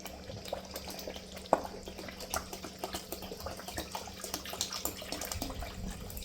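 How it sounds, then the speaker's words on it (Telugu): Water runs and splashes quietly into a pan of fish curry masala cooking in oil, a faint steady trickle with small drips and one brief clink near the start. "ఇప్పుడు వాటర్ వేసుకుందాము."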